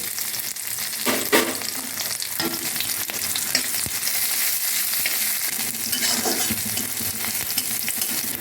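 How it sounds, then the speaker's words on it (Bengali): Garlic, green chili, dried chili and radhuni spices sizzle steadily in hot oil as tempering for a prawn and jute-leaf dish, with occasional stirring scrapes and no talk. "সব ফোড়ন ভাজা হয়ে গেছে"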